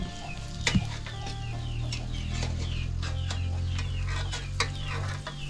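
Chickens cluck repeatedly nearby in a rural Lao setting, short irregular calls over a steady low hum, with a brief knock early on and no speech.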